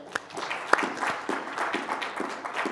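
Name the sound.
audience applause for a debate panel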